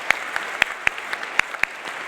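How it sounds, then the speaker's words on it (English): Scattered applause from a meeting audience, a few distinct claps at an uneven rhythm rising over a soft bed of continuous clapping, fairly close and moderately loud, with no talk. "now one final and rousing round of applause as we share our gratitude and best wishes"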